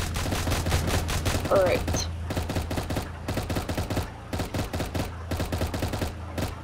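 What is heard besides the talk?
minigun firing in Roblox Tower Defense Simulator video game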